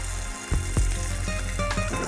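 Garlic, ginger and onion hit hot oil in a pan after mustard seeds, giving a soft broadband sizzle broken by a few sharp clinks and knocks, brief and fairly quiet with no talking.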